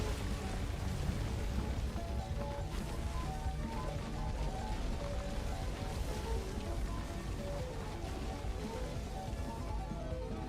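Rain falls in the Pacific Drive game, a dense, steady hiss of drops pattering on surfaces. It stays even and fairly soft throughout, with no one talking.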